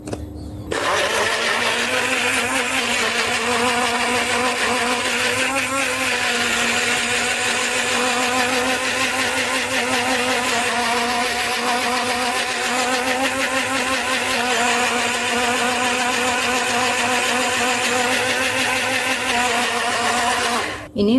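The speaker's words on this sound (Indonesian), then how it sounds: "Kita blender dulu." Blender whirring at a steady high speed as it blends young coconut water with squeezed lemon juice, a loud continuous motor whine lasting about twenty seconds before stopping abruptly.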